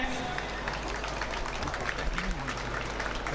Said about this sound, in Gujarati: આપણે સૌ એમને તાળીઓથી વધાવીએ.